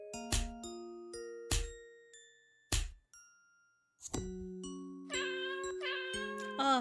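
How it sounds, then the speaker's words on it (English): Chiming, bell-like tones ring out in short spaced hits in the LiEat video game, then turn into brief synthesized cat meows near the end. The sounds are clear and close with quiet gaps between, and no voices. "I forgot about the kitty noises."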